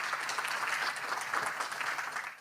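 An audience at a conference on AI, digital security and smart cities applauds a speaker being called to the stage. The clapping is dense and continuous, moderately loud throughout the short burst, with no talk over it.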